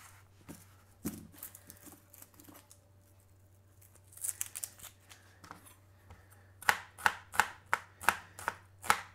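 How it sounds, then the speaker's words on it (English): A kitchen knife slicing onions finely, a run of crisp, evenly spaced close cuts on a board near the end after scattered quieter taps and handling noises, no talking. "Finely sliced. This is how I like to slice my onions."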